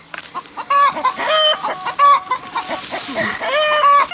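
Several chickens cluck and squawk close by, a busy overlapping chorus of short, repeated calls.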